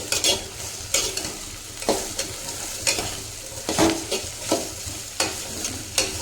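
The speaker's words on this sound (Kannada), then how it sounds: "ಈಗ ಅಷ್ಟು ಸೋರೆಕಾಯಿ ಹಾಕಿ ಇವನ್ನೆಲ್ಲ ನೀಟಾಗಿ ಫ್ರೈ ಮಾಡ್ಕೊಳ್ರಿ" Chopped bottle gourd frying in a pan, a continuous sizzle punctuated by regular scraping stirs of a utensil at close range, no one speaking.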